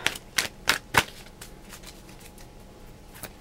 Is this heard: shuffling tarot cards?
yes